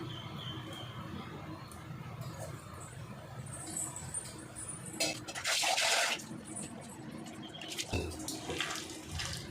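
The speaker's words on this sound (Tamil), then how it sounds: "இன்னும் கொஞ்சம் லைட்டாக தண்ணி இதில் வந்து சேர்த்துக்கிறோங்க." Water trickles and splashes steadily into a bowl of bitter gourd pakoda batter, with a brief louder pour in the middle and faint clinks around it.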